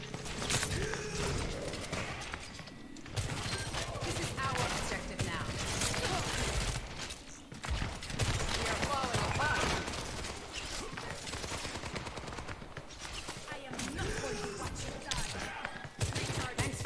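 Rapid automatic gunfire from Bastion or Sojourn in the Overwatch 2 shooter game, dense continuous bursts with mechanical clatter filling most of the clip, loud and close, with brief pauses.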